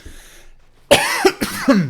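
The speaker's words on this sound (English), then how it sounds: "I have a bit of a cough today, I'm afraid." A man's cough during a live esports commentary: a short run of harsh coughs at close range, arriving as a few separate bursts after a quiet moment.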